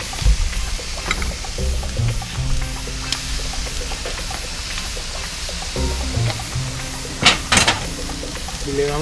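Pineapple slices and bacon frying on a hot griddle give a steady, close sizzle, with scattered crackles and a few louder pops and scrapes along the way.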